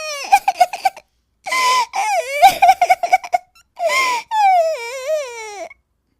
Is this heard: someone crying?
yes